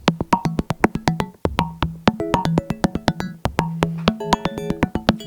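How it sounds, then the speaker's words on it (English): A Torso S-4 sequence plays plucky, bell-like synth notes in a quick rhythmic pattern, with envelope follower modulation making the bell's level swell and drop, alone with no voice. "so that we're getting these dynamic changes where the bell's coming in"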